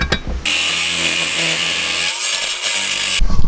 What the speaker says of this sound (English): now we could drill the hole to bolt that onto the intercooler